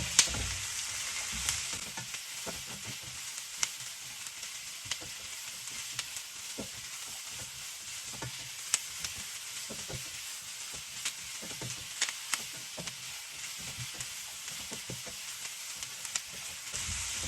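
Carrots and mixed vegetables stir-fried in a wok over high heat, a constant bright sizzle with repeated stirring scrapes and taps, close and steady, no talking.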